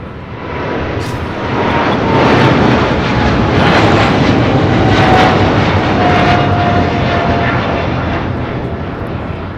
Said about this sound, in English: This is the Cargo King, Flight 222, taking off to Shanghai on a 777 freighter, China Cargo Airlines.